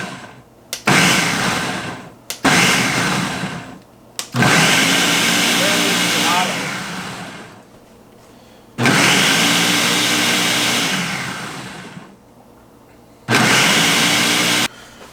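A kitchen mixer blends peppers into salsa in loud pulses. Several short whirring bursts are followed by longer runs of steady high-pitched motor grinding, with quiet gaps between them.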